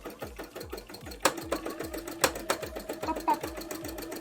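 An embroidery sewing machine with a struggling needle stitches in a fast, steady mechanical chatter, with a few sharper pops and thuds breaking the rhythm.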